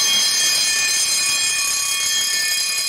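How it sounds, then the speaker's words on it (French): A sprinkler control station alarm gong under weekly test rings continuously and loudly with a bright, sustained metallic tone and no pauses, with no talking. "Hebdomadairement, l'agent procède à l'essai du gong d'alarme équipant les postes de contrôle sprinkler"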